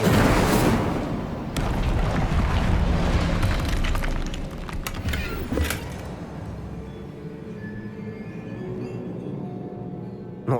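A fiery spell blast in Hogwarts Legacy bursts loud and booming at the start, then rumbles and crackles down into a long fading roar with a few sharp pops.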